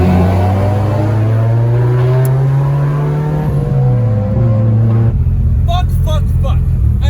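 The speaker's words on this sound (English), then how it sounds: "we're gonna race these two cars" A BMW E90 M3 races a MK5 Supra, engines droning loud and close as they rise in pitch through the gears, then shifting into a rougher, lower rumble; no one speaks.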